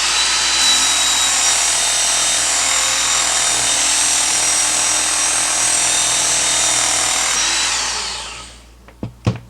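Belt sander running a coarse belt to sharpen the edge of a garden hoe, heard as a loud, steady broadband grinding roar that holds for about eight seconds, then winds down, followed by a few sharp knocks.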